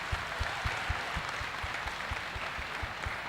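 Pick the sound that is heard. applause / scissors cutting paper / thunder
applause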